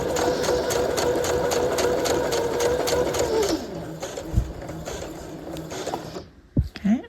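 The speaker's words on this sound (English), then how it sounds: "I'm going to sew right up and over it." A sewing machine stitches across a welt pocket on a half-scale jacket, with a loud, close, steady mechanical whir that winds down and stops, followed by a few clicks and handling noises.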